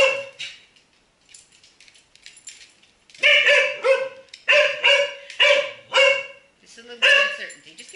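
A dog barks in a series of sharp, close, loud barks, a few quick ones at first, then a steady run of about six after a pause, with speech-like sounds in between.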